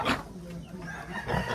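Chickens cluck and a rooster calls on a small backyard farm with ducks and pigs nearby, short close fowl sounds at the start and end with someone speaking over them.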